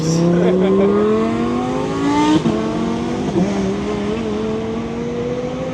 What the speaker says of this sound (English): Oh, that's a turbo Lambo.